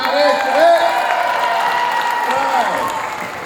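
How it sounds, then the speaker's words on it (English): A melodic electronic Nokia 3510i phone ringtone plays alone, a bright tune of stepped notes, pausing briefly before a second, busier chiming melody starts. "to give Chevy a big round of applause"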